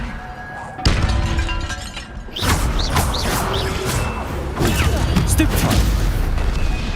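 A Levioso spell cast in Harry Potter: Hogwarts Mystery, a dense magical burst with swooshing, shimmering effects and booming thuds filling the whole stretch, loud and continuous amid game sounds.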